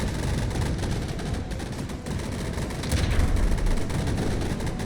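A cram cannon fires during a Skybound Arena video game battle, producing dense, continuous booming and crackling gunfire and explosions that stay loud for the whole stretch with a slight swell near the end.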